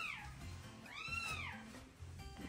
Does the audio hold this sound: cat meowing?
yes